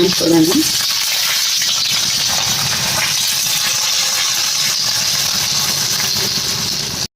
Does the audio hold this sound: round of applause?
no